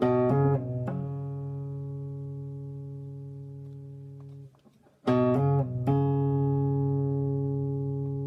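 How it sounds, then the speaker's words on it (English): A clean electric-style guitar phrase: notes rising and falling smoothly without fresh picks, a brief near-silent gap, then the slurred pattern repeats, loud and close. "We're going to do a combination of a hammer on and a pull off this time."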